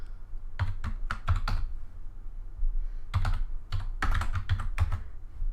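Fingers type in quick bursts on a computer keyboard at a desk, close and crisp, with two clusters of rapid keystrokes split by a short pause. No one speaks.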